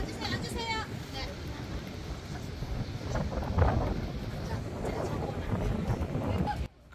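A canal tour boat cruises through Christianshavn in Copenhagen, giving off a steady broadband rumble of engine, water and wind noise that runs continuously beneath people talking nearby.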